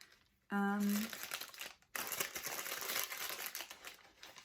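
Wax paper packaging crinkles and rustles as it is handled up close, a steady crackling texture that pauses briefly and resumes, with a person speaking at the start.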